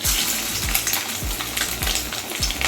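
Fish roe fritters frying in hot oil, a constant crackling sizzle close by, with a series of evenly spaced dull knocks of a utensil against the pan and no voices.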